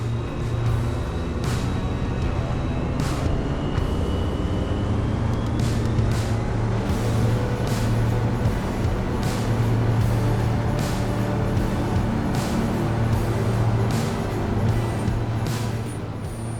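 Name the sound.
Rotax 916 engine of KFA Safari XL aircraft, turbine-like whine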